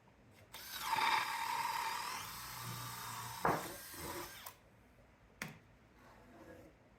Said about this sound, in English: I'm going to drill 4 holes in it.